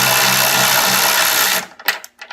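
A Kimo 12 volt cordless ratchet backing out a tight bolt, heard as a loud, close, continuous motor buzz for about a second and a half that stops abruptly, followed by a few short clicks.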